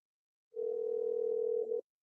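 A short, faint telephone dial tone holds steady for just over a second as a call is placed, with no voices over it.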